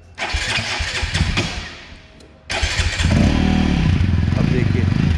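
A 2022 TVS Apache RTR 200 4V Race Edition 2.0 motorcycle engine cranks and fires, then settles into a loud, steady, aggressive idle with blips of revving, close to the microphone.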